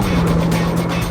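Mitsubishi Lancer Evolution X with a 2-liter inline four-cylinder engine, a loud, steady engine drone from inside the car at speed, holding one sustained tone with no voices over it.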